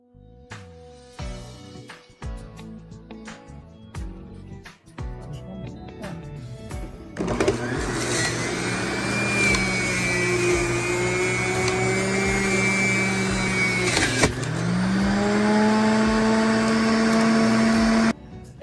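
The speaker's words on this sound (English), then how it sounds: "Watch me juice" After a few knocks and clatters of prepping Granny Smith apples, an electric juicer starts up with a loud, steady motor whine that runs for about ten seconds, briefly dips in pitch under load, then continues until it cuts off.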